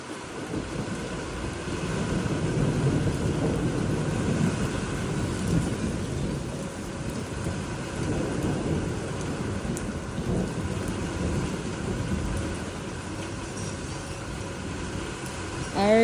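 A thunderstorm during an Arizona dust storm brings steady rain pattering on surfaces with deep rolling thunder rumbling underneath, a fairly loud continuous wash throughout.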